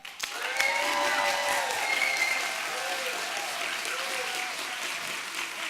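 Sustained audience clapping at an online learning conference as the crowd judges a panel by noise, a dense steady roar of hands with faint whistle-like tones and murmuring voices mixed in.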